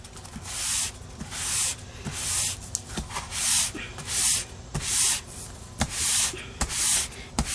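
Sandpaper rubbing over a stenciled paper page in rhythmic back-and-forth strokes, close and fairly loud, repeating steadily about once per second.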